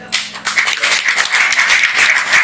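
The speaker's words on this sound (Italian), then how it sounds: "un applauso che io rivolgo a voi, questo che voi fate a me" A crowd applauds for Senator Amidei at a Fratelli d'Italia victory celebration among supporters, with steady, dense clapping close by and filling the whole stretch without pause.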